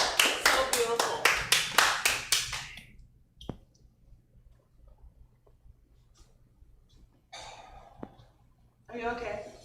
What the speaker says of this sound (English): How about you at home give us a round of applause to get started?